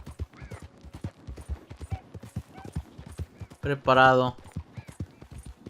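Horse hooves clip-clopping in Red Dead Redemption 2, steady rhythmic hoof beats under ongoing talk, with a brief loud horse whinny in the middle.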